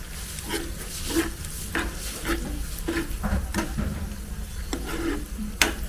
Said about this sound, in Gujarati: બસ પછી આવી રીતે મિક્સ કરી દેવાનું